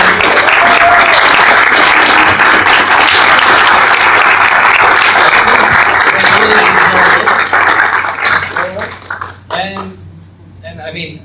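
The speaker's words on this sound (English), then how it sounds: "So first of all, I would want a very good applause for all of you." An audience at a roundtable discussion on the Sustainable Development Goals breaks into loud, sustained applause that thins out into a few scattered claps near the end.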